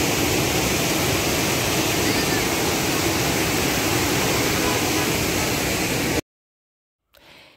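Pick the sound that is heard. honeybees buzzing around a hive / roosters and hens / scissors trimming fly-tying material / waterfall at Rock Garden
waterfall at Rock Garden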